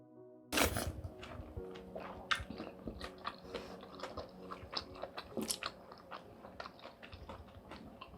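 Someone eating spicy Korean potato sujebi, hand-torn dough soup, up close: a sharp first bite, then a run of soft wet chewing and slurping sounds.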